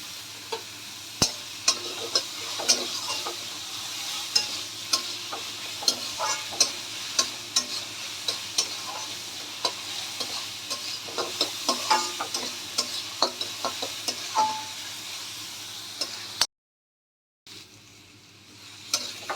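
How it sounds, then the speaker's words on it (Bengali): Onions frying with a little salt for tawa pulao hiss steadily in a pan while a spatula scrapes and taps at an irregular pace, then the sound cuts out briefly before the sizzle returns. "নুন অ্যাড করে দিলে কি হবে, পেঁয়াজটা তাড়াতাড়ি ভাজা হয়ে যাবে"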